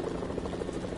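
A large helicopter in a video game makes a brief, steady, fairly close rotor drone.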